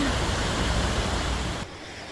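Tanner Creek in Oregon, rushing near a waterfall, gives a dense, close, steady wash of water noise that drops slightly in level toward the end.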